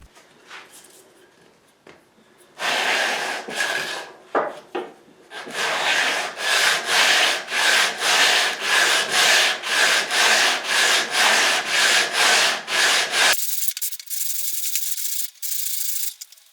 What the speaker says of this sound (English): Okay, on to the sanding.